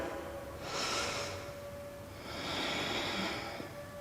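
Two slow, deep breaths during a beginner yoga session, each a soft broadband airy rush lasting about a second, close to the microphone, separated by a quiet pause, with no talking.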